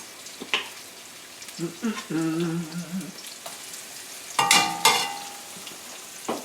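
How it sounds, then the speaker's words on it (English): Diced yellow onion going into a hot pan gives soft sizzling and stirring in a home kitchen, with brief scrapes, light clatter and a short voiced sound partway through. "I'm going to add these onions. All right, this diced up yellow onion"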